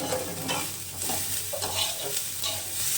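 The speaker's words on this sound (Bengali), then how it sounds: "লাউয়ের খোসা ভাজা বা চোচা ভাজা যেটাই বলো না কেন, অল্প তেলে করেছি একদম" Bottle gourd peel frying in a little oil in a pan, a steady close sizzle with stirring scrapes running throughout, no voices.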